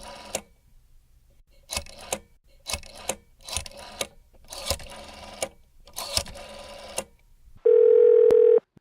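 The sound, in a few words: telephone number being dialed on a non-touch-tone phone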